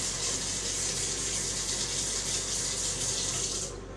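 Water runs steadily from a household tap, a close, even rushing hiss that holds for several seconds and then cuts off abruptly near the end.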